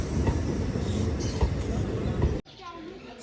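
A train runs at Anantnag railway station, on the Anantnag to Banihal line, with a steady loud rumble and rattle of wagons that cuts off abruptly to a quieter background of faint voices.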